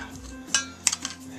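A spoon stirring food in a pot gives a few sharp metallic clinks and scrapes, close and fairly quiet, with a faint low hum behind.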